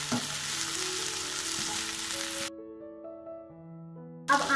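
Sliced okra fries and sizzles in a pan at home while being stirred gently, a steady close hiss with soft scraping that cuts out abruptly partway through, leaving a quiet musical tone before the sizzle returns briefly.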